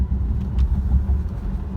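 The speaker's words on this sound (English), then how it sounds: "So we're going to try to accelerate in a straightaway here and see how it goes." A 2017 Karma Revero driving on a straightaway under acceleration, with a steady low rumble of road and drivetrain noise heard from inside the cabin, continuous and even throughout.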